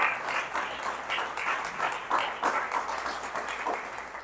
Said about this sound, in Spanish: Damos un aplauso a todas las personas que están siguiendo nuestra transmisión